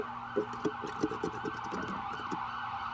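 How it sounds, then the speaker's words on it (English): A police car siren wails steadily throughout at moderate distance, with a few sharp knocks and clatters close by over the top. "The cops are coming."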